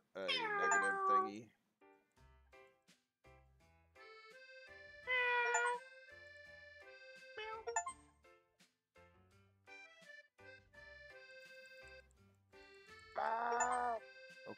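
Cartoon cat meows from the video game Cats Hidden in Paris, several short, fairly faint calls spaced apart among light game music notes.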